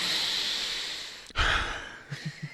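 A person sniffs, with a heavy breath or sigh followed by three short, quick, close sniffs near the end and no talking.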